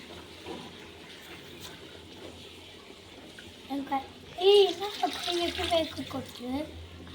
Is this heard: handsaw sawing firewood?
no